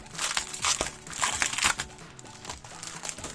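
Crinkly plastic packaging of scrapbooking paper being unwrapped up close, with repeated crackling, rustling bursts of crumpling at an irregular rhythm, fairly quiet and with no talk.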